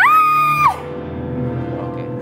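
A woman lets out a long, loud sustained scream to release pent-up emotion, cutting off abruptly after under a second into a quiet room tone.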